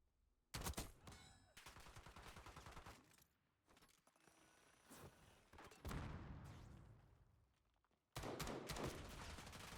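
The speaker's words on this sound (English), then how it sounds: "I missed all of those shots." Kilo 141 assault rifle fire in a first-person shooter game rings out in rapid automatic bursts, loud and close, separated by short gaps, with a final sustained burst at the end.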